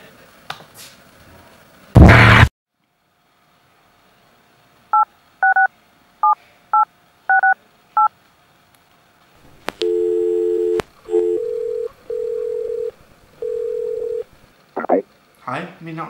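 A phone dials a mobile number: a short burst of noise, then a string of distinct touch-tone beeps at an uneven pace, followed by ringback tones as the call connects, clear and close with no speech.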